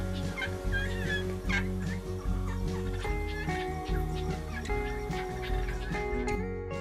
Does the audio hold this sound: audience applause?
no